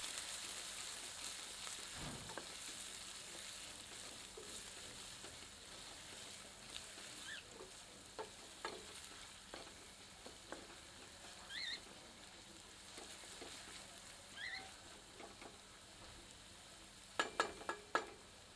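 Onions fry in oil as they turn golden brown, making a faint, low sizzle with occasional soft clicks and scrapes near the end.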